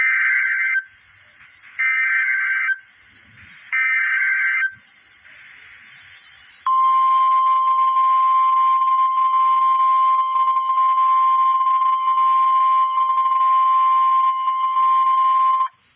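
Emergency alert system broadcast for Hurricane Florence in Carteret County: three loud, evenly spaced two-tone attention bursts followed by a long, steady high alert tone held for about nine seconds, with no talking.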